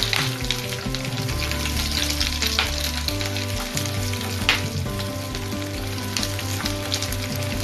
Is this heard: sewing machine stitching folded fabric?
no